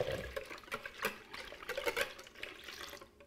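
Water is poured onto two lightly smashed eggs in a bowl while making zucchini fritters, giving a faint, uneven splashing and trickling close by, with no talk.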